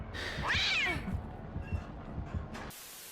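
A cat lets out a sudden, loud, wavering meow as a jumpscare on a Dead by Daylight map, then soft scuffling game sounds continue before a brief burst of noise.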